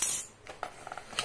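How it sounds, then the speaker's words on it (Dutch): A small metal unicorn keychain clinks softly as it is handled among other odds and ends, giving a few light, quick metallic taps close by, with no talking. "De sleutelhanger van een unicorn."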